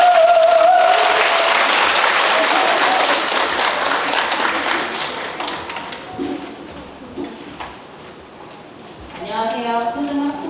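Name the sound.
audience applause at a school parents' assembly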